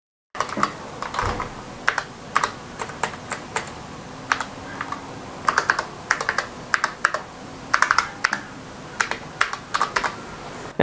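Typing on a Rampage low-profile mechanical gaming keyboard with red switches produces scattered, uneven bursts of sharp key clacks, close and fairly quiet, with no voices.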